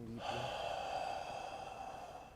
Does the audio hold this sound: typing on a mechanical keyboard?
no